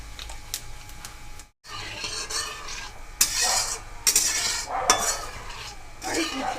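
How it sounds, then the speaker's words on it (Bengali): Spoonful of nigella seeds tempering in hot oil left from frying tengra fish, a soft close sizzle broken by repeated scraping and stirring of a spatula against the pan, with no talking. "ওই তেলেই এখানে আমি এক চামচ কালো জিরে ফোড়ন করে নেব"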